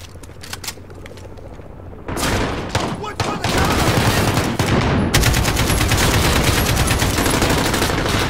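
AK rifle fire from Call of Duty Modern Warfare rattles in dense, rapid bursts. It starts with a few scattered shots, then grows into loud, nearly continuous gunfire mixed with booms.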